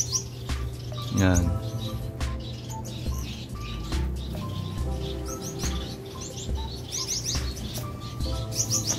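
Caged breeding birds chirp and tweet continuously, with dense overlapping calls and a brief rising trill, close and fairly loud; a voice speaks a single short word.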